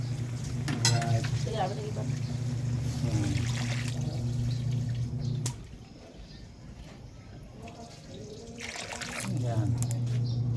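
Water is poured into a hot cooking pan while pansit is being made, giving a hissing trickle and sizzle that stops briefly and then returns, with a voice talking over it.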